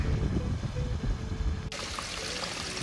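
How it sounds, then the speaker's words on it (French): Water from an underground river on a mountain hike trickling and pouring steadily nearby, a continuous splashing flow that turns brighter and fuller partway through. "Rivière souterraine."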